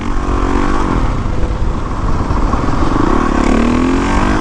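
A motorcycle rides past a quiet factory area of a city street, its engine droning loud and steady with rising revs near the end, no talking over it.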